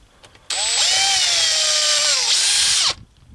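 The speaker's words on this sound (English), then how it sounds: "And hopefully when I drill through" A power drill whines loudly and steadily for about two and a half seconds, its pitch dipping slightly as it bites into metal on a Chinese diesel water heater's glow plug, then cuts off.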